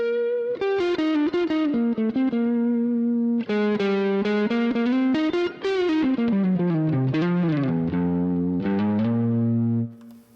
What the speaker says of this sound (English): You can put a bit of reverb on. We've got spring to about halfway, and then plate the rest of the way.